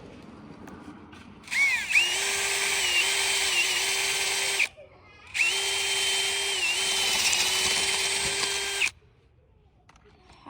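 Power drill drilling out mountain bike brake lever parts, two long loud whining bursts of several seconds each, the motor pitch wavering slightly under load, with a short gap between them.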